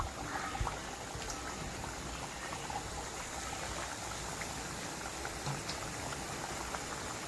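Ribbon pakoda dough fries in hot oil, a steady, dense bubbling sizzle with faint crackles, close by and without talk.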